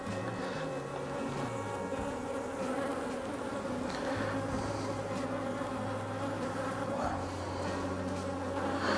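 Honey bees buzz loudly around an opened hive at an apiary after a cold spell, a dense, continuous drone with shifting pitches close to the listener.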